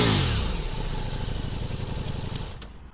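Ducati Multistrada V4 S motorcycle engine revving up close, a loud sustained roar that climbs quickly, then settles at a steady high pitch before easing off at the end; no voices.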